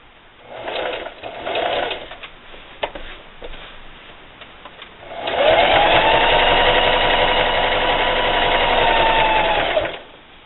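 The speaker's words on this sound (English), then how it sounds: "I'm going to start a little bit on the sheet here, and then I'm just going to sew" Sewing machine stitching through layered quilt fabric, a scrappy shirt quilt sandwich, with a short burst of stitching early on followed by a long steady run of loud, continuous motor hum lasting about five seconds.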